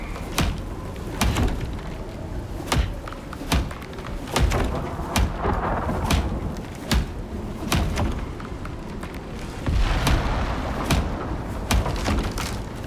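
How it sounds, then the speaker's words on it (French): Storm with rain in the survival video game Icarus, hitting a fragile shelter: a loud, dense wash of noise with sharp thuds and knocks recurring about every half second to second. "là il y a un gros coup de tempête qui arrive"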